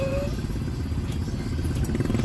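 A motorcycle engine runs steadily at close range, its low rumble continuous and fairly loud throughout, with some faint clatter in the background.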